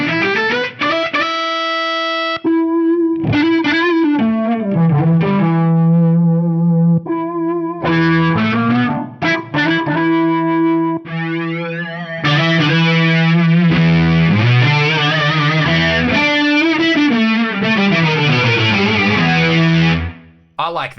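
Electric guitar runs through a Boss SY-1 synthesizer pedal on its second variation, giving buzzy, distorted synth tones that slide and swoop between notes in a continuous busy passage, loud and close with no talking.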